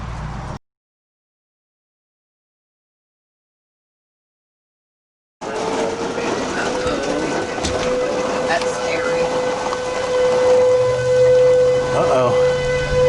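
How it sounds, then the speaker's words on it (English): After a long silence, a steady warning siren tone sounds in the distance over a rough, noisy background of wind and thickening rain. "Our siren's going off"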